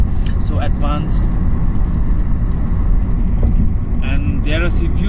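Traffic on a New York City street, a constant loud rumble of cars with a few brief squeaks and horn-like tones, with a person talking over it.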